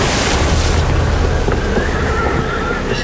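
Storm-force winds over 50 knots and seas up to 5 meters batter a small boat, a loud, steady roar of wind and crashing waves with no voices.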